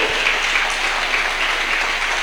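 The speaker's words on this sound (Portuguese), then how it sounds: "E se você crê, diga amém, diga glória a Deus e aplauda o Senhor Jesus." Congregation applauding together during a church service, a dense, steady wash of many hands clapping at close range, with no voices breaking through across its short length.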